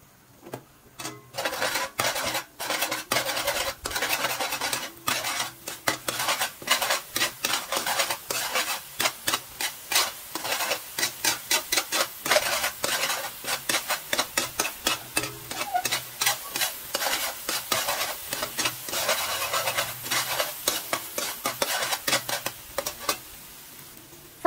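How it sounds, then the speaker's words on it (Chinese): Pork knuckle stir-fried with chili paste in a pan, a soft sizzle under rapid, rhythmic scraping strokes of the spatula repeating steadily throughout, close and clear. "炒至金黄色后，加入三大匙的辣椒糊"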